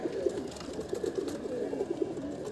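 Kolkata Eye pigeon, a racing bird flown for 11.5 hours, coos in a soft repeated series of low throaty notes, close and steady for a few seconds with no talk.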